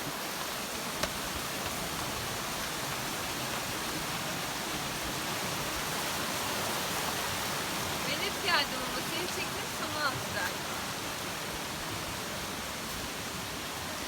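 Steady, dense rushing of a waterfall in a nature park fills the whole stretch, constant and broadband, with a couple of faint brief sounds over it.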